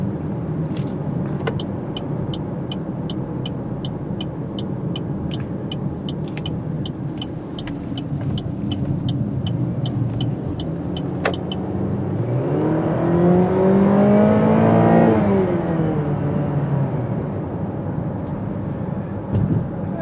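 Steady engine drone of a 2013 Chevy Malibu 1LT cruising, a broad continuous hum with a rising, shifting tone midway as it pulls harder, then settling back; no talking.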